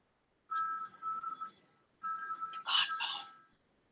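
A phone rings twice in short electronic bursts separated by a brief pause, clear and fairly close with a quiet background.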